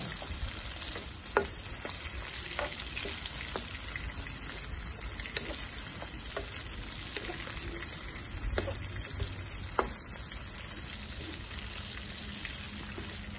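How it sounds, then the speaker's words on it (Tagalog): Onions and garlic sauté in a pan for a pork and shrimp dinner, giving a soft, continuous sizzle with occasional clicks and stirring scrapes, fairly quiet and without talk. "So, yung iba pang nagigisa, inuuna niya yung sibuyas"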